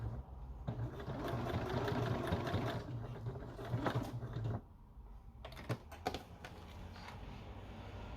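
A sewing machine stitches an apron pocket, buzzing steadily for a few seconds before stopping, then clicking and tapping as the fabric is turned with the needle down, with low talk in the background.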